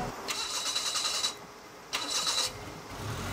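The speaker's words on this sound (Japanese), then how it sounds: "普段乗ってないんで、もしかしてエンジンかかんないかもわかんないんですけど、" A Suzuki Mighty Boy kei car engine cranks twice, each burst of starter whine and sputter lasting under a second with a pause between, then settles toward a low idle, heard close by.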